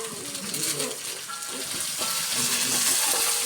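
Chopped onion and green chillies frying in a pan with garlic for a home-style Kerala thoran, a steady close sizzle with occasional stirring scrapes, no one talking.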